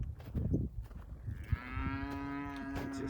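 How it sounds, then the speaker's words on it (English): Cattle on a farm moo, one long drawn-out low call rising clearly over faint earlier grunts and rustling outdoors, fairly close. "I just see the cows"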